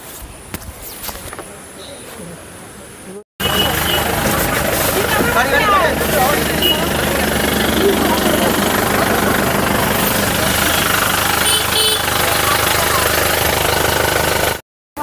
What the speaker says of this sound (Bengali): আমরা দেখতে পাচ্ছি এখানে এলাকাবাসীকে বোটের মধ্যে করে নিয়ে যাওয়া হচ্ছে নিরাপদ স্থানে।